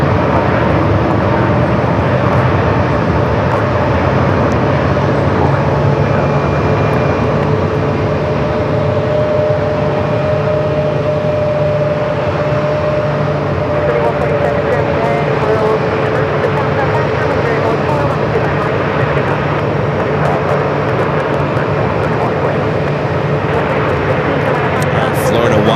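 A Frontier Airbus A320neo jet rolls down runway 25 right at Phoenix Sky Harbor airport, producing a continuous broad jet roar that holds steady and loud throughout.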